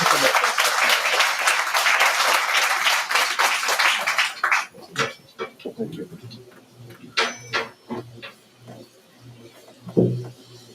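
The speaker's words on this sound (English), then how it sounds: "Please give the tabla group a round of applause." An audience at an annual graduation ceremony applauds the tabla group, a loud sustained round of clapping for about four seconds that cuts off, followed by scattered clatter, knocks and murmuring voices.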